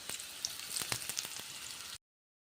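Onions sautéing in a pan until golden brown for a sea crab gravy, a quiet continuous sizzle broken by small crackling pops, close and alone, ending abruptly in silence.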